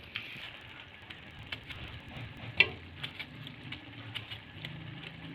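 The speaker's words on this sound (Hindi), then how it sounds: "अब इसको मैं डाल के तो थोड़ा इसको भी फ्राई कर लूँगी।" Minced meat (keema) for a matar keema dish fries in a pan, giving a soft, steady sizzle broken by scattered clicks and taps of stirring.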